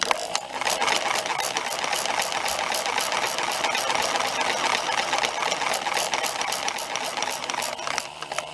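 A homemade motor-generator device with free-moving motor coils starts up and keeps running, giving a steady, rapid mechanical ticking and whirring that stays close and even throughout.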